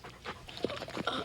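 A dog pants close by, quick rhythmic breathy huffs with a couple of soft whimpering yips mixed in, short and alone.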